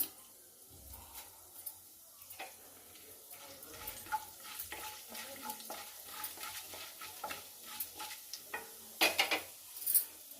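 Chana dal fries in hot oil in a pan, a faint crackle with scattered clicks and scrapes of stirring, growing a little busier toward the end, with no talking.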